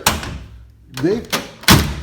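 A car door on a restored Blue Heinz vehicle swings shut with several close, dull thuds, one of them bouncing back. A voice can be heard around the impacts.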